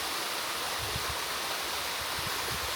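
A Swiss waterfall pours in a constant, broadband rushing roar that stays full and steady without pause, with low splashing thuds pulsing underneath close by.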